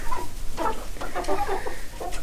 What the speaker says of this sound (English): Silver lace Wyandottes. That's what they are.